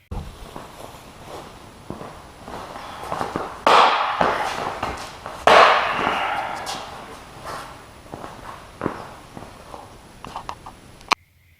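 A hardwood flute strikes a samurai armor jacket with two loud, sharp impacts a couple of seconds apart, amid lighter knocks and shuffling.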